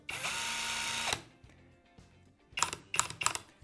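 A high-torque 2-in-1 cordless drill spins up in a short, loud whine lasting about a second. Later come several brief rattling, clicking bursts, close by with no talking.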